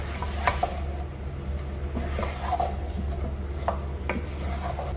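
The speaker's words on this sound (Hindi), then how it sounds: "चिकन हमने डाल दिया है, अब इसको फ्राई करना है" Chicken fries in a pan with a soft steady sizzle, broken by scraping stirs of a utensil against the pan, fairly quiet with no talk.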